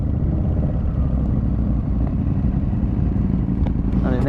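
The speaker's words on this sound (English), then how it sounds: "There is a sheesh ton of motorbikes at MCAS." Many motorcycle engines idle and rumble nearby at a toy run gathering at MCAS, a thick continuous drone with occasional revving and clatter.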